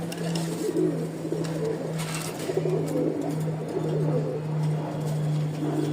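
Domestic pigeons, including a white one, coo steadily at close range in a loft, a low continuous throaty rolling call running throughout with no talking.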